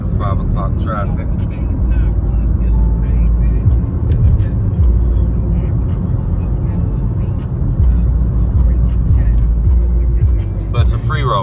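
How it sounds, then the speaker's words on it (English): Steady 5 o'clock rush-hour road traffic near Fort Thomas, Ohio, heard from inside a moving car, a constant low engine and road rumble with vehicles passing, while someone talks over it. "Got a little bit of 5 o'clock traffic."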